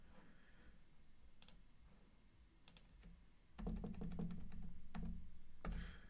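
Bursts of keyboard typing: a few scattered key clicks, then a rapid run of keystrokes close up, with a faint background hum and no speech.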